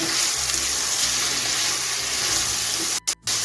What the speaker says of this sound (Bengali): আলু আর ফুলকপিটা আমি এটার মতো গ্যাসটা লোটো মিডিয়ামে রেখে ভেজে নেব